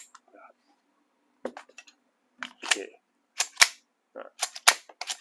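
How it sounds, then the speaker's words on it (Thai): A TR 914 blank gun fires on full auto in short clattering bursts of sharp pops, spaced by brief pauses, with some talking mixed in. "เวลายิงก็สลัดขึ้นมาด้านบนแบบนี้ นี่นัดสุดท้ายสไลด์จะค้าง"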